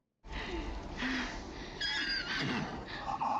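A horse neighs in a scene from the TV show The Witcher, a loud, close whinny that rises and wavers over a few seconds amid dramatic background sound.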